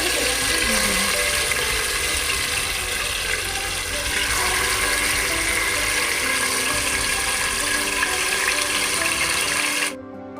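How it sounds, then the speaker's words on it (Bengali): Marinated chicken fries in oil inside a pressure cooker, giving a loud, steady, dense sizzle that runs almost unbroken and then cuts off abruptly near the end. "ভেজে নেব চিকেনটাকে দিয়ে দেবো তেলের মধ্যে ম্যারিনেট করা"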